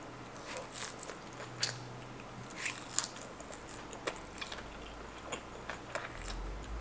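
Kimchi pancake is being eaten up close, with soft bites and moist chewing that crackle faintly at irregular moments over a quiet room.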